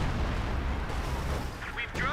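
A heavy Major Artillery barrage lands in Company of Heroes 2 as a continuous deep rumble of overlapping blasts. Toward the end a faint voice is heard over the shelling.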